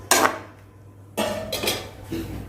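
A spoon clanks and scrapes against a pan as masala is mixed into an eggplant and beans curry, in two short bursts of close metallic knocks with a brief quiet gap between them and no talking.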